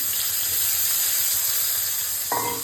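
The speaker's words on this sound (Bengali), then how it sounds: "একটুখানি বেগুনগুলোকে হালকা করে ভেজে নেবো, বেশি না ভাজলেও চলবে।" Eggplant pieces frying in hot oil give off a loud, constant close sizzle that holds steady for the whole moment, with a brief utensil clink near the end.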